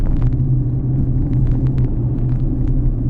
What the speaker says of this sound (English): you can definitely hear the engine noise